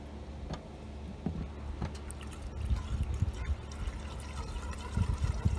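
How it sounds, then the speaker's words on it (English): Gasoline pours and trickles over a part of a Troy-Bilt push trimmer as it is washed, a soft, uneven liquid splashing and dribbling with light clicks, fairly quiet and close. "And now you can wash it with some gasoline."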